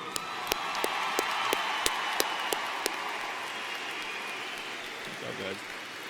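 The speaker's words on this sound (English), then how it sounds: "Please join me one more time in giving a big round of applause for getting here." Audience applause for a graduating high school class at a graduation ceremony, a steady crowd of clapping with sharp individual claps standing out early, fading slightly toward the end with a brief voice at the close.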